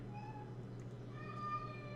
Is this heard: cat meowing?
yes